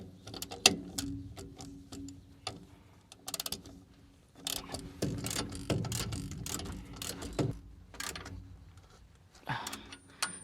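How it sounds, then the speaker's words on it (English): A brake chamber being screwed back into place on a KamAZ truck, close metallic ratcheting clicks and rattling tool handling in uneven bursts with short pauses, no speech. "All we have to do is now screw this one back in"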